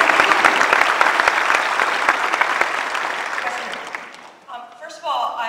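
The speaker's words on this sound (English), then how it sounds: "Let's clap for the people when they come up here." An audience at a conference keynote applauds presenters as they come up, a loud, dense burst of clapping that slowly fades over about four seconds before a voice begins speaking.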